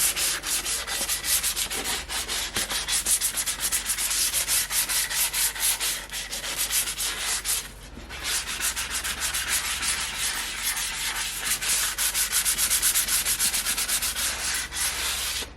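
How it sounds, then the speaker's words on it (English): Continuous rhythmic sanding, rapid back-and-forth rubbing strokes on wood, close and steady with one brief pause midway. "So what we're going to do now is give them a light sanding"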